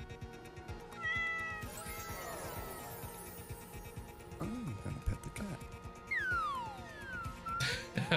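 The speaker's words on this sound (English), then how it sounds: "I want to pet the cat." A cat meows a few times in a busy, noisy room, with people talking and laughing over it and other sounds mixed in.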